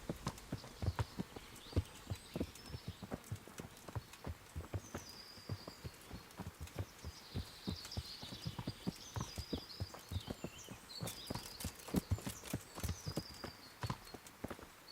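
Horse hooves clip-clop steadily in the Kingdom Come: Deliverance video game, a close, rhythmic trot that keeps going throughout with faint birdsong above it.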